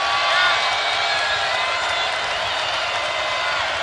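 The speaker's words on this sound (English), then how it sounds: "Crowd trying to help the Wildcats to a much-needed stop here" A basketball arena crowd cheering and roaring for the Arizona Wildcats during a 2017 game against UCLA, making a loud continuous wash of noise with a commentator talking over it.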